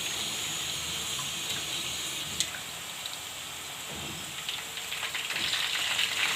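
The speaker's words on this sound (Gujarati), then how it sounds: "જુઓ આમ સડી જાય એટલે આપણે આમાં હવે પાણી નાખશું." Banana wafers fry in hot oil with a soft, steady sizzle, and a quiet crackle swells as salted water is added to the pan. A brief pop stands out partway through.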